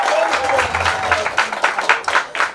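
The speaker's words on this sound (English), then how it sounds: "Big round of applause for beautiful future grandmother," A small crowd applauds at a baby shower, with a brief burst of clapping that is lively and close and overlaps a voice on the host's microphone.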